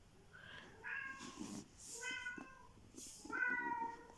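A small female cat meows indoors, three separate plaintive mews spaced about a second apart, quiet and fairly close, with faint low background noise between the calls.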